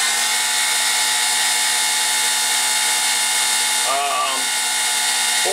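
The spindle of a Sieg X2 mini mill converted to CNC whines steadily at speed, set by a potentiometer, a constant high motor hum with a brief warble partway through.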